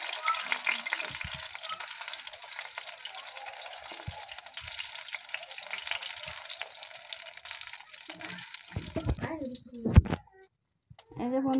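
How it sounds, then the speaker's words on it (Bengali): Cauliflower pakoras frying in oil make a steady moderate crackling sizzle, with some stirring knocks, louder thumps near the end and a voice briefly. "আমার সব কটা ফুলের পাকোড়া কিন্তু ভাজা হয়ে গেছে।"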